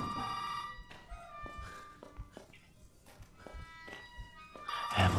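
A telephone rings inside the horror video game Resident Evil 7. Its bright, tonal ring repeats several times at moderate volume over game ambience, soft footsteps and thuds, and grows louder near the end.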